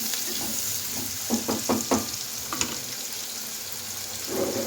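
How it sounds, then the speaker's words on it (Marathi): Tomatoes sauté in a hot pan with a steady, close sizzle, punctuated by a handful of soft knocks as they are stirred. "टमाटर टाकलंय, त्याचा 2 मिनिटं परतवायचे आहे"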